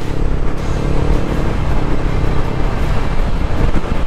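Strong wind gusting near a row of large windmills at a tourist spot in Ilocos, a steady loud roar buffeting the microphone throughout with no talking.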